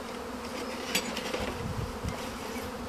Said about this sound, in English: That's a swarm about to happen.